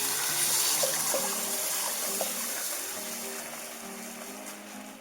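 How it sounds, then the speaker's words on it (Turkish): A steady, fairly loud gush of hot water pours continuously into a cooking pot, the flow tapering slightly toward the end. "3 su bardağı sıcak su ilave ediyorum"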